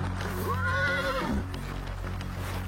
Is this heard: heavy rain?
no